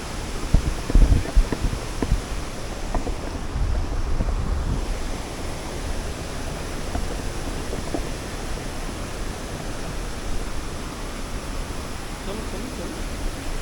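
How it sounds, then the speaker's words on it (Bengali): Heavy, steady rushing roar of water plunging from a great height at a monsoon-season waterfall near Ranchi. The wash of broadband noise stays close and continuous throughout, with occasional low buffets of wind on the microphone. "কত উঁচু থেকে জলটা নামছে দেখো।"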